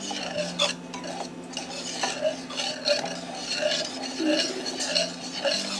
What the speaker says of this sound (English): you want to kind of stir it, move it along, get it nice and moving like this